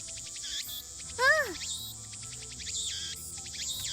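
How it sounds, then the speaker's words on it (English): Loud, rapid cicada buzzing pulses repeatedly in short bursts, with a brief chirp and soft background music in a scene from the Steins;Gate visual novel. "Like, cicadas are damn loud and annoying."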